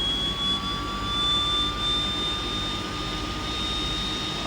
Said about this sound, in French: Le moteur gauche en train de démarrer.